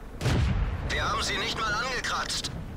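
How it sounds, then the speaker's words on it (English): A single heavy tank cannon shot booms at the start in World of Tanks, a German Panther firing, with a short rumbling tail, then someone talks steadily over the quieter game background. "I'm shooting at you know, the rear top of this tank is kind of the thinnest armour there"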